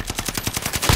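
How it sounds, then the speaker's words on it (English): Rapid automatic gunfire in a first-person shooter game, with shots cracking in through a window; a fast, steady burst of repeated loud reports over about a second, ending in a heavier blast. "Getting shot at through the fucking window."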